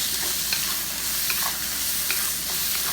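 Leftover grilled pork ribbons and mushrooms, already cooked, reheat and recaramelize in a hot pan, giving a steady close sizzle with light stirring scrapes throughout and no talking.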